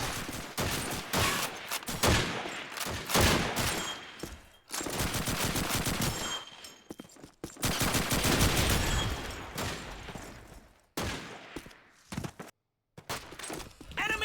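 Gunfire rattles through a Call of Duty 2 match: loud bursts of automatic fire alternate with single shots and brief near-silent gaps, then fade into sparser shots toward the end.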